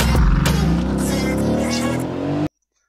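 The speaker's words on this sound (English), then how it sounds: "Listen to that engine." A Mercedes-AMG car engine revs loudly nearby, roaring and climbing in pitch with a brief tire squeal, then cuts off abruptly into silence.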